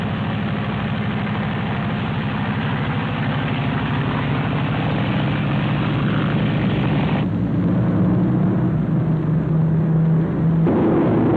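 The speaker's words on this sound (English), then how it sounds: "Watched that plane take off." A propeller aircraft engine drones steadily during takeoff, its tone shifting as it powers up, heard from a moderate distance with no voices.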